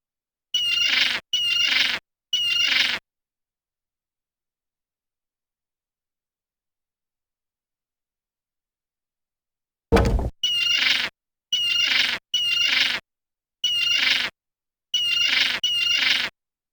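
Bird squawks from The Secret of Monkey Island video game come in short, loud, harsh bursts: three quick squawks, a long silence, then a thunk and a rapid run of further squawks, with no speech.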